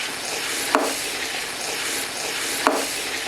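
Pieces of meat sizzle and fry with onions in a pot for nihari, a steady close hiss broken by two sharp stirring scrapes, with no talking.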